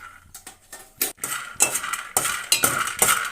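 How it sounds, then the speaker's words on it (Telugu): Raw peanuts tumble into a dry kadai over a lit stove for roasting, a run of close, bright rattling clatters in uneven bursts that grow denser toward the end, with no voices. "ఒక బాండి పెట్టుకోవాలండి ఇప్పుడు పల్లీలు వేసుకోవాలి"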